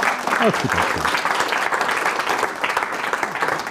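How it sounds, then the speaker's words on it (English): Group at a class demonstration gives a round of applause, a continuous patter of clapping with a brief voice near the start. "give these guys a round of applause for being so amazing"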